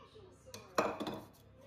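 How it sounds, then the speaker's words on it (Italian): Muffin batter ingredients stirred in a bowl, a few clinks and scrapes of a utensil against the bowl in a home kitchen, close and moderately loud over a faint background. "E mescolo per bene sempre tutti gli ingredienti"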